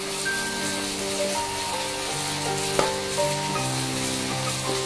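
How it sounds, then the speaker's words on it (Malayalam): Ginger and garlic paste sautés in a pan with a continuous crackling sizzle, steady and close. A single soft scrape of stirring breaks through briefly, and no one speaks. "അപ്പോൾ അതിൻ്റെ ഒരു പച്ചച്ചുവ മാറുന്നവരെ വഴറ്റും"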